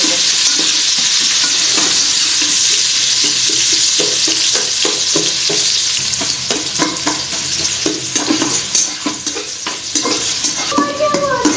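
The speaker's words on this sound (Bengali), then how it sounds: "পেঁয়াজ আর কাঁচামরিচ দিয়ে দেবো এবার পেঁয়াজটা লাল লাল করে মেটে" Onions and green chillies fry in a rice cooker with a loud, continuous sizzle and repeated scraping stir strokes that grow busier toward the end.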